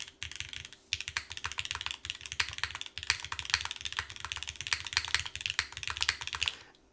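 Rapid typing on an LX60 mechanical keyboard in gasket mount with Norse keycaps, a steady close-up stream of crisp poppy keystrokes with a few brief pauses, no talking.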